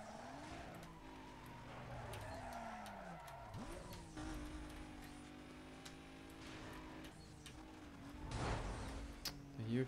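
A Toyota Supra races in Need for Speed Most Wanted 2005, its engine droning and sweeping up and down through gear changes, with tire squeals and a surge of revving near the end, under faint background talk.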